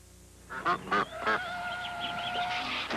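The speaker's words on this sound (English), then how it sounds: "Ducks! Ducks!" Several close, loud honking quacks from ducks in a Prudential insurance commercial, starting in short bursts and then running into a busy, overlapping flock chatter.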